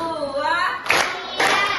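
Students in a classroom computational-thinking lesson clap in a counted routine, two sharp group claps standing out over a teacher's speaking voice, close and fairly loud.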